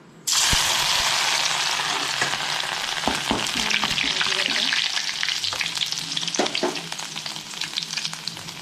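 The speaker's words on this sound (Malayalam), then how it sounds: "എണ്ണ നന്നായി ചൂടായി വന്നിട്ടുണ്ട് നമുക്ക് ഇതിലേക്ക് ഇഞ്ചി വെളുത്തുള്ളി ചതച്ചൊന്ന് ഇട്ട് കൊടുക്കാം" Crushed ginger and garlic hit hot oil with a sudden loud sizzle that holds steady, broken by occasional stirring clinks and scrapes.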